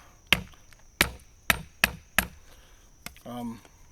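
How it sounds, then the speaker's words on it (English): GGK service combat khukuri knife chopping through wood, five sharp, loud thwacks spaced apart, followed by a brief quieter knock and a short vocal sound at the end. "I mean, you can also chop through the wood if you really wanted to."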